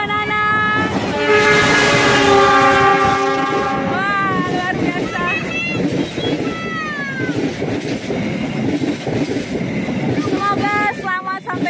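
A Lodaya passenger train rumbles past close by at the foot of a mountain while its horn blares in long, loud tones, with wheel noise continuing after the horn fades.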